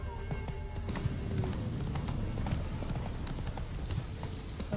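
Rapid clip-clop of hooves from a galloping horse in The Witcher 3: Wild Hunt video game, steady and continuous, with a brief whinny in the background.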